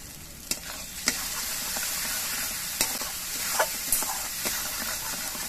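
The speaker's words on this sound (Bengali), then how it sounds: "এবার মশলাগুলো কিছুক্ষণ কষিয়ে নেব" Spices fry in oil in a pan for a snakehead fish and mango curry, a loud, steady sizzle broken by occasional sharp stirring clicks and scrapes, with no one speaking.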